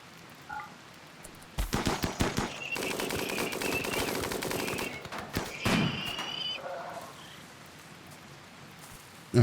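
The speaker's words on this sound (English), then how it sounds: "he's probably still shooting at the cryopod" Rapid automatic gunfire from a shootout in the colony game Rimworld rattles in dense, fairly loud bursts for several seconds, then stops, leaving quiet background.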